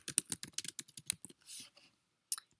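Keys clacking on a computer keyboard in short irregular bursts, close and fairly quiet, with a brief pause and then a final sharp keystroke.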